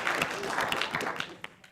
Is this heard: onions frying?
no